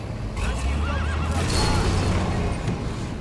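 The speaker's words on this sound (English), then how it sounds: "That horse's hair was glossing." A horse whinnies in The Walking Dead: A New Frontier video game, a wavering neigh over a low rumbling backdrop with hoof sounds and other game audio.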